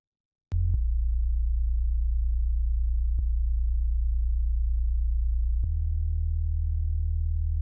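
A sustained deep bass tone from a mix with no compression applied, holding steadily for about seven seconds with slight shifts in pitch at a few note changes. Faint clicks mark each change, and no one speaks.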